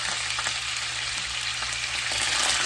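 Eight stalks of celery and five cloves of garlic sizzle steadily in hot bacon grease, a constant close crackle with no voices.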